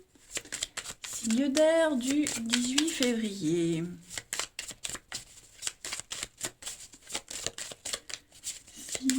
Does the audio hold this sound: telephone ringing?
no